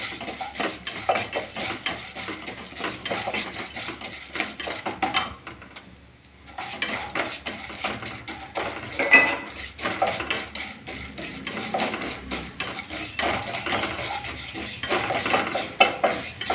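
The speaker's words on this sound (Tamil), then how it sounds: "இனி இதில் துவரப்பருப்பு, கரியாமல் நல்லா வறுத்து விடலாம்." Toor dal dry-roasting in a pan as a utensil stirs it, giving a steady run of scraping and clinking against the metal with faint rustling grains, close and fairly quiet, with a brief lull midway.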